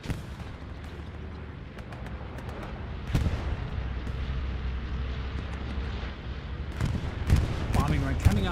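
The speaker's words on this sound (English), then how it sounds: "Bombing run coming on in" A bombing run in a 35-versus-35 online battle game: heavy booming explosions land over a continuous low rumble of combat, with big blasts near the middle and a cluster of sharper bursts at the end.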